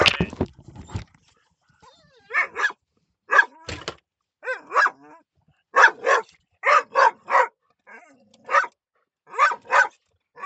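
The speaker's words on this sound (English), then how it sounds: "so now the dogs are barking" Dogs bark loudly and close by in short repeated bursts of two or three barks, separated by brief silences, with an occasional whimper or yip.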